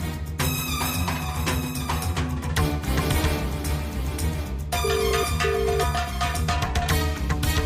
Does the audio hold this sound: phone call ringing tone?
yes